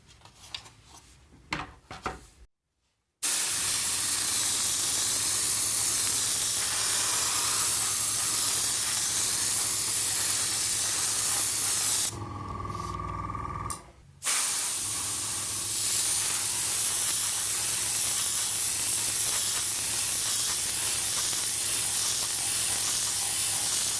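Airbrush spraying black Vallejo acrylic pre-shading paint onto a 1/35 scale Zvezda T-14 Armata tank model, a steady close hiss running nearly throughout, with a brief pause near the middle and sputtering bursts at the start.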